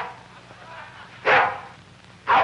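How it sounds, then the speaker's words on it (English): A dog barks inside a courtroom, two short loud yelps about a second apart, over a murmuring hall. "Get that dog out of this courtroom."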